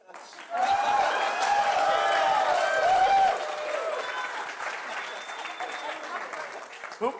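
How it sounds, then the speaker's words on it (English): A debate audience claps loudly for one side, a full burst of applause that swells and holds for a few seconds, then settles into lighter, scattered clapping with a voice rising over it. "Who would like to clap very loudly for this side who hasn't yet gotten a win?"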